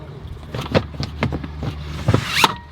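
Tesla Model Y trunk cargo cover being opened, a run of close clicks and rattling plastic slides with a brief swish at the end.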